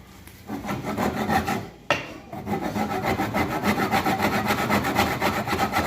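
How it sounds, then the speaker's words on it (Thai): Hand saw rasping through wood in steady back-and-forth strokes, close up, with a brief pause before the rhythmic sawing resumes. "เสร็จเราทำการเลื่อยไม้เลยครับ"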